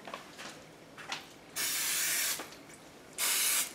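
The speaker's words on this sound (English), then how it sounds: "little cooking spray" Cooking spray misted into a baking pan for gluten-free zucchini bread: two sustained hissing bursts of about a second each, close and clear, after a few faint short puffs in a quiet kitchen.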